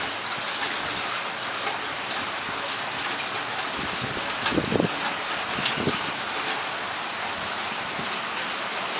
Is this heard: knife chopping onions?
no